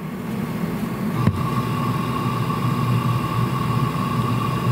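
Chinese diesel heater with its flexi intake pipe resonating, a steady low droning hum with a sustained tonal whine above it, continuous and close, with one brief knock partway through and no speech.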